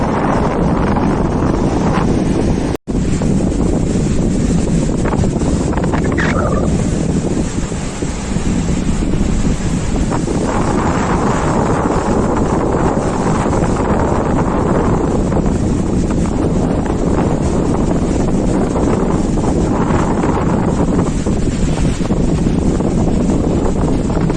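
Strong wind blows steadily across the mic at the sea beach at Tajpur, a loud continuous roar with surf mixed in and a brief dropout early on.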